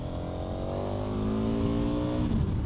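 A KTM 1290 Super Adventure motorcycle engine revs up, its tone rising steadily and loudly close by, then easing back at the end without speech.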